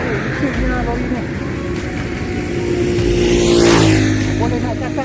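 A noisy lorry passes by a paddy field along Sungai Lampam, its engine roar building to a loud close peak around the middle and then easing off, with voices low beneath it.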